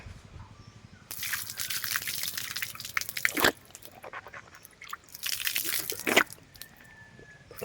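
Water splashes and trickles in two bursts, poured over hands while washing after a meal in a village, with scattered drips and quiet gaps between.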